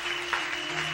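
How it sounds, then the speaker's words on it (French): Church congregation at a morning fasting and prayer service claps in a steady, dense wash of applause, with a sustained tone from music or an organ underneath. "Are you giving Jesus a big clap?"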